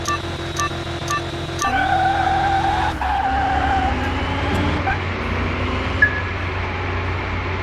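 A drag car launching in Car Mechanic Simulator 2021, its engine note jumping as the tires squeal and skid. A loud, steady, close roar rises in pitch through the gears, with no talk.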